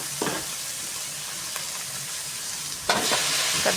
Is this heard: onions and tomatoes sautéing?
yes